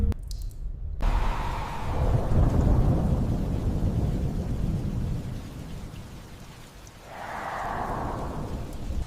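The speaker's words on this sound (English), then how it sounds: "That night, back in town, rain thrums the apartment windows." A rainstorm with heavy, continuous rainfall and deep rolling thunder that swells, fades and returns, close and loud throughout.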